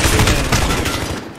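Dense rapid gunfire from a competitive shooter game match, a continuous loud fusillade of overlapping shots rolling steadily through the whole moment with no pauses.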